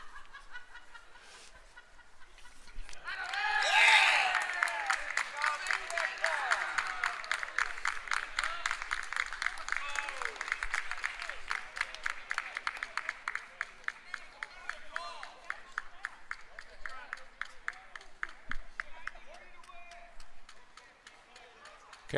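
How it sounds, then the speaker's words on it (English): A crowd at a college baseball game gives a sustained round of applause for an injured player getting to his feet, with rapid hand claps swelling early and then continuing steadily, a commentator voice faintly underneath. "I think that was a round of applause for getting up to his feet"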